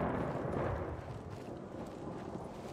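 A deep, rolling rumble of thunder in the video game Days Gone, loud at first and slowly fading, with no voices.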